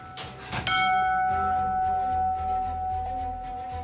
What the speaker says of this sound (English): Yours truly has the privilege of ringing the scramble bell today.